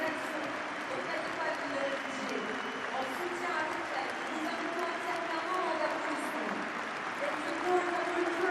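A stadium crowd at a France versus England rugby match applauds, making a broad, continuous wash of clapping and crowd noise. A commentator talks over it.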